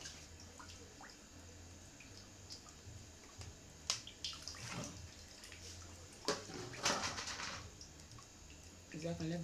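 Water is emptied out of a large pot in which dried sorrel leaves were steeped for bissap juice. Close splashing and sloshing come in uneven bursts, with a soft voice in the background.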